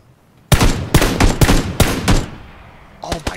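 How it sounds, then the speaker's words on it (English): Gunfire in the battle royale game PUBG, a loud close burst of about six sharp shots in fairly even rhythm after a quiet start, then a short pause and two more quick shots. "One shot, one kill."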